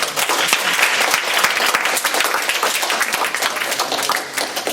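Audience applause fills a conference panel session, a dense, steady wash of many hands clapping at close range, holding even and loud throughout with no voices standing out.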